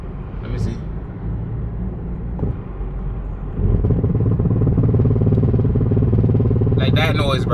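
A BMW 330i engine makes a shaking noise: a steady, close mechanical rumble that grows louder and heavier about halfway through and holds there, with a brief higher rattle near the end.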